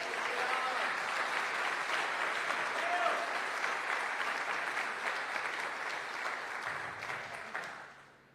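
A church congregation applauds, broad continuous clapping holding steady for several seconds, with a voice faintly underneath, before it tapers off and dies away at the end.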